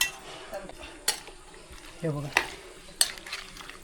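A spoon scrapes and knocks against a pan as jackfruit vegetable is mixed with salt, giving scattered clinks and sharp taps over a soft sizzle. The sounds are intermittent and fairly quiet, with a brief voice-like murmur partway through.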